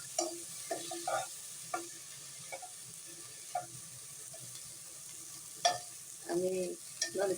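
A spoon scrapes and taps around a nonstick pot coated with a little oil, producing a quiet series of irregular clinks and scrapes with soft pauses between them.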